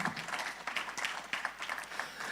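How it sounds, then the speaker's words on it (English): Audience round of applause at an awards night after a spoken word prize is announced, brief scattered clapping at moderate distance. "Once again, a round of applause"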